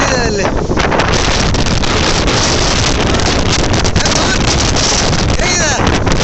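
Strong, cold wind blasts across a foggy hilltop on the way from Bengaluru to Wayanad, a loud unbroken roar buffeting the microphone throughout, with faint voices barely audible underneath.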